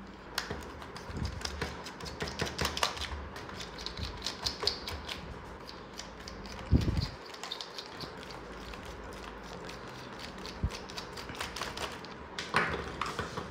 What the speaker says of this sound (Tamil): சிம்பிளாக நம்ம வந்து 7 ஸ்க்ரூவை வந்து அன்ஸ்க்ரூ பண்ணிக்கலாம்